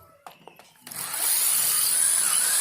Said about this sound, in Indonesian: tinggal kita bor menggunakan mata bor beton ya, yang ukuran 6 mm